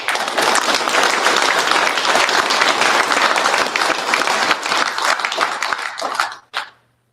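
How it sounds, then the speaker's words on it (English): Audience applause for three award winners at the Drag & Drive Awards, part of the PRI 2025 show. Dense, sustained clapping from a large crowd holds steady throughout, then thins out and stops abruptly near the end. "we'll give them a big round of applause."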